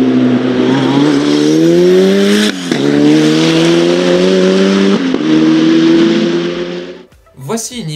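A Dallara Stradale EXP hypercar engine revs hard in rising sweeps, three long climbing pulls broken by brief drops, loud and close, with a burst of different noise at the end.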